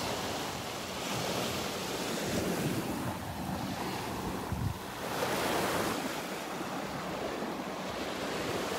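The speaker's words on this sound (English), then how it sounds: "these little waves are the wake from a boat that went by earlier out there in the Gulf" Small waves from a passing boat's wake wash onto a Gulf beach at Delnor-Wiggins Pass State Park, a soft continuous surf with gentle swells and wind noise on the microphone.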